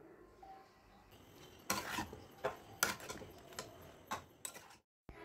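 Bottle gourd and spices being stirred in a pan, a series of separate scraping taps and clinks of the utensil against the pan, fairly quiet and close, with no talking.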